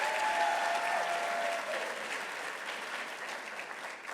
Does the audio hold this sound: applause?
yes